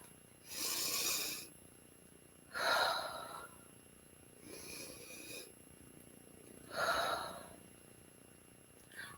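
Slow, deep breaths in a guided relaxation exercise: four soft, airy swells of breathing, each a second or so long, close to the microphone and quiet, with no talk.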